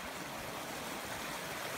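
A mountain stream runs through a channel between town streets, giving a steady, close rushing wash of water with no pauses and no voices.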